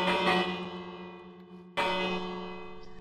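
A bell in the Minecraft video game rings twice, each bright metallic strike followed by a long fading ring, moderately loud with no voices over it.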